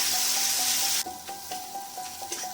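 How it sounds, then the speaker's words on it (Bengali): Chilli powder and turmeric sautéing with chopped banana stem in a pan: a burst of loud hiss that drops off, then quieter sizzling with a few scraping strokes of a spoon, close by. "লঙ্কা হলুদটা কষিয়ে নিয়েছি"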